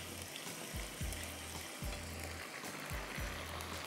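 Eggplant masala frying in a pan, a quiet, steady hiss with a few soft scraping strokes of a spoon at regular intervals, no voices.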